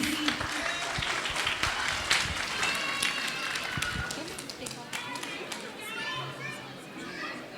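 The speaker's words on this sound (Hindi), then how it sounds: "प्लीज़ भरपूर तालियां बजाइए ये मेरे भाई" An audience at a Pakistan cultural society Eid festival in Kuwait claps for a performer, with scattered applause over crowd chatter and children's voices that gradually thins out.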